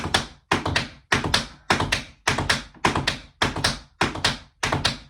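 Tap shoes work through a three-beat crisscross shuffle with an added heel, nine sharp clustered bursts of taps in an even rhythm, close and crisp, separated by brief silences with no talking.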